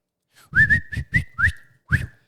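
A person whistles in imitation of a construction worker's catcall, giving a series of six sharp, loud, rising whistle blasts in quick succession, close and alone.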